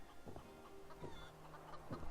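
Chickens on a rooftop build in Fallout 76 cluck in short, soft bursts scattered through the moment, fairly near and quiet over a low ambient background.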